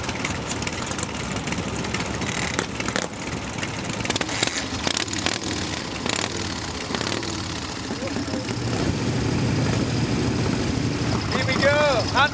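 Engine of an 85-year-old hand-shift Indian motorcycle on a demo lap at a vintage motorcycle event, a steady loud drone that swells toward the end, with voices talking over it.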